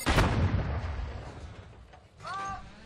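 Artillery fire in World of Tanks, a heavy booming blast at the start that rumbles and decays, followed by a quieter mechanical whir and tonal whine near the end.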